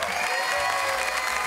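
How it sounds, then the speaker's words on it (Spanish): An audience applauds and cheers at a live Spanish-language comedy show, a dense, loud, continuous wash of clapping filling the whole moment, with no talk over it. "¡Un aplauso!"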